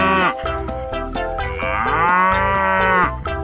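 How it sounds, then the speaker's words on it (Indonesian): Water buffalo mooing in an animal rescue truck simulation video game, a loud, sustained, drawn-out bellow with strong tonal layers that carries on for several seconds without any talking. "lihat teman-teman, ada hewan kerbau."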